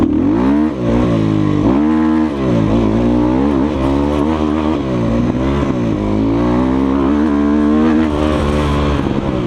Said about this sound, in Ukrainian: він кричить цей мотоцикл